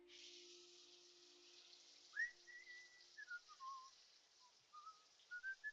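A man whistles a light, wandering tune in short phrases over a quiet background hiss, faint and somewhat distant with pauses between notes.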